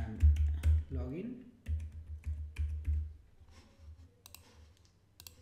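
Computer mouse clicks while working in a .NET MAUI app on a PC, a few light, close clicks scattered over low background hum and faint voice-like sound.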